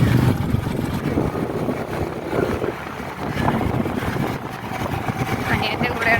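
Motorbike ride with a sibling heading toward a toll plaza, steady loud wind buffeting and low rumble throughout, with a voice talking over it.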